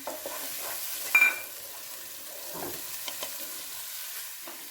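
Tomatoes stirred into a frying macaroni masala in a pan: faint, sparse spatula scrapes and soft sizzling, with one brief louder clatter early on, otherwise quiet.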